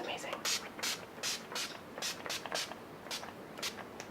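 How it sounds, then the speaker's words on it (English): Urban Decay Chill makeup setting spray is misted onto a face in about a dozen quick hissing bursts, close and distinct, in an uneven rhythm. "Now I'm going to set the face with the Urban Decay Chill Makeup Setting Spray."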